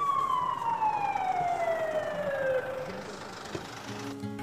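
An ambulance siren wails in long descending sweeps, loud and close at first, then eases off as the vehicle pulls up, with a lower engine tone coming through near the end.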